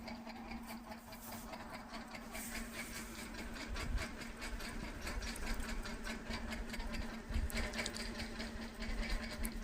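Sewing machine running steadily to stitch the edge of a round neckline on cloth, a continuous close mechanical whir with rapid needle rhythm and slight speed swells, heard alone without talk.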